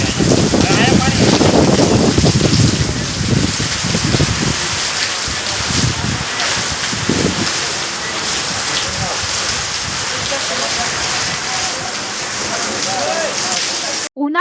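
Steady rain falls on a village during days of continuous downpour in Una taluka, heard as a constant hiss with wind buffeting the microphone and some rumbling noise early on, then a cut at the very end.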